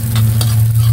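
Garlic and onion sauté in oil in a pan, a loud, close, continuous sizzle with a low hum beneath and a couple of quick stirring scrapes in one short moment, without talking.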